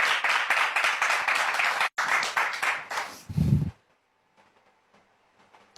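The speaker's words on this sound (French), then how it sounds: "Est-ce qu'on peut les encourager avec des applaudissements?" An audience at a French church gathering claps in a dense burst of applause that breaks off briefly and resumes, then ends abruptly with a low thump and fades to near silence.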